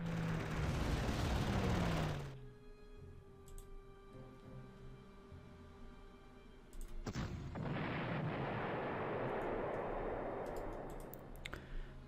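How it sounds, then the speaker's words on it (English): Bombing in the WWII strategy game Panzer Corps, Demyansk Pocket mission: two long, loud, rumbling explosive bursts separated by a quieter stretch with a faint tonal background, with no talking. "Or I could bomb them. That would work too. Guess bombing it is."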